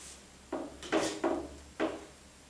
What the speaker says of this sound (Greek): Το κόβουμε με απλή φαλτσέτα